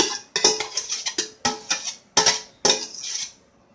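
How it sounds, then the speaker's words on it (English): A utensil stirs vegetable chow mein in a pot, giving a series of sharp metallic clinks and scrapes in an uneven rhythm, close and clear with no talking. "So my pot's stirring."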